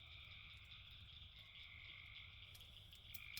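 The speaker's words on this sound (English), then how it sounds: "spring peepers are off the charts." Spring peeper frogs call at night in a dense, continuous chorus of high, shrill peeps that layer into a steady ringing drone, with a faint low rumble underneath and no voices.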